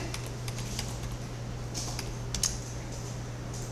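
Light, scattered clicks of typing on a computer keyboard sit quietly over a low steady hum, with short bursts of keystrokes and pauses between them.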